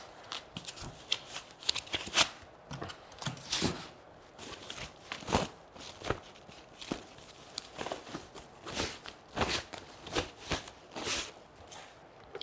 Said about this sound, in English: Let me just get some of this packaging off.